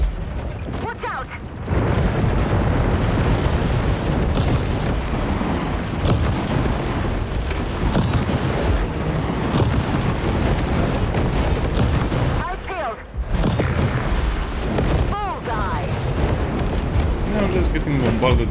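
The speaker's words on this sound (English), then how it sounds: "Now I'm just getting bombarded by missiles." A missile bombardment in the video game War Robots: Frontiers, a relentless stream of loud, dense explosions and booms with only a couple of brief gaps.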